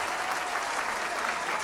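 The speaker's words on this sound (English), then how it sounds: "more clapping." The studio audience of a talk show keeps up steady, full applause, many hands clapping in an unbroken wash at moderate volume with no talking on top.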